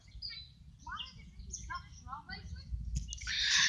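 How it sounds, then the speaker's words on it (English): High, thin chirps from a baby bird come in short repeated bursts near the listener. Rustling and handling noise runs underneath, and a loud hiss builds toward the end. "Birds sound like kittens."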